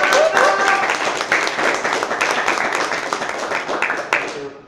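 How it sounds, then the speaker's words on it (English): A live audience at a poetry reading venue applauds with sustained, dense clapping that stays fairly loud and steady before slowly thinning out, with a few louder individual claps near the end. "Please give the local a round of applause."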